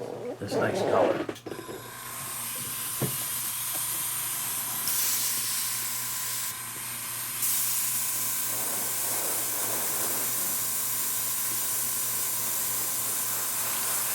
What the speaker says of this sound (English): So spray a little heavier down at the bottom